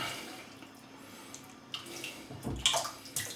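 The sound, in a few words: hot water pouring into a bowl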